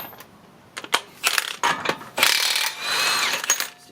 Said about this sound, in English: Plan is to remove this nut. I mean axle nut, see the axle nut.